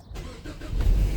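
A Ford Explorer engine cranks and catches, rising into a steady low rumble that grows louder toward the end, close by and with no talk over it.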